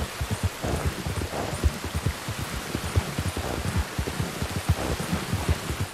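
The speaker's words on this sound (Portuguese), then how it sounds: "a chuva tá forte" Heavy rain falls in Red Dead Redemption 2 with steady patter and splashes and a low rumbling undertone, moderately loud and unbroken.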